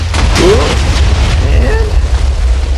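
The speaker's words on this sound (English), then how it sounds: "Let's go ahead and light it. Let's see how big of an explosion it gives us." A Minecraft TNT block explodes in one loud, sustained, rumbling boom that fills the clip, with a voice briefly audible over the blast.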